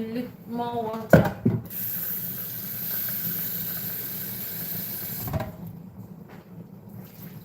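Tap water runs steadily into a soup pot for several seconds, a broadband splashing rush following a few clattering knocks, then cutting off; no talking over it.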